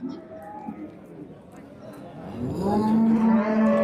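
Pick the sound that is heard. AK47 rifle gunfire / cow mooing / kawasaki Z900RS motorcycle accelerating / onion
cow mooing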